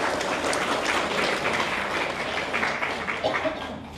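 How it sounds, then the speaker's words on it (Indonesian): A seminar audience claps steadily and densely, close and fairly loud throughout, with a faint voice underneath. "Boleh tepuk tangan buat kita semua."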